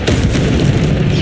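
A Bombarda spell explosion in Hogwarts Legacy, a loud, dense rumbling boom that fills the short moment without any pause.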